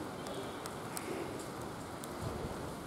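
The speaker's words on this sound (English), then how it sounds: "it has turned to a steady drizzle now." A steady drizzle of rain falls on a winter morning, a soft, even hiss with scattered faint drops tapping nearby and no voices.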